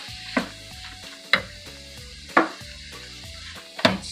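Carrots for pancit bihon fry in a pan while a spoon stirs them, giving steady sizzling under a sustained tone and four distinct scraping knocks spaced about a second apart.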